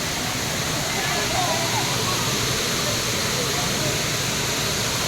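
Loud, steady rushing water roars continuously at the Wawa Dam spillway, a broad hiss that fills the scene with no breaks.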